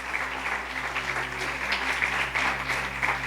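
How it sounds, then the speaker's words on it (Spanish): A church congregation claps in a steady, even patter, a continuous moderate applause over a low hum, with no voices standing out. "quiero que le demos un fuerte aplauso ahí al Señor por la vida"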